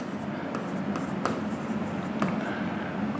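A pen scratching out a handwritten number during a Bengali profit-and-loss maths lesson, several short faint strokes tapping and scraping at irregular moments beneath a teacher's ongoing speech.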